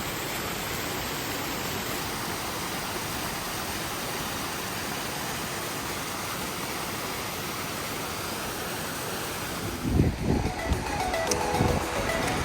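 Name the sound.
mountain waterfall stream near Gaumukh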